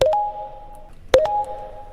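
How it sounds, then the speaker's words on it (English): Two short sine-wave synth notes made in Serum, each starting with a quick pitch step up and holding a pure tone before a soft release, with a gap between them. "This is again sine wave."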